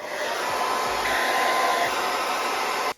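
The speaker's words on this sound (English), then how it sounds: "let's grab the blow dryer" A blow dryer drying a man's hair blows as a continuous loud whoosh close by, holding steady for about three seconds before cutting off abruptly.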